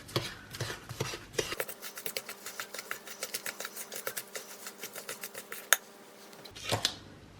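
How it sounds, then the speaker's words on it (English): A spoon stirs ingredients in a bowl in a home kitchen, clinking and scraping in a rapid, steady rhythm for several seconds, close and fairly quiet. "I'm going to stir those in."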